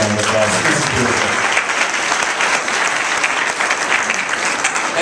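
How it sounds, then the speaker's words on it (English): Wedding guests at a reception give the bride's parents a big, dense round of applause, continuous and loud throughout with no pause. "parents of the bride, Harry and Donna Capers, please give them a really big round of applause."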